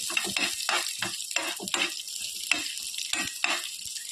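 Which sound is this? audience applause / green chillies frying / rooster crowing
green chillies frying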